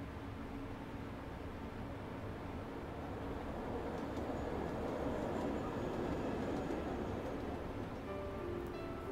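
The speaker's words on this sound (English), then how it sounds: "I could hear the sound of the train, accompanied with faint vibrations" A train passes in a visual novel video game as a faint, steady low rumble with a broad noisy wash that swells slightly in the middle, distant and continuous with no voices.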